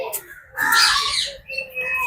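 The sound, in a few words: parrots squawking in a zoo aviary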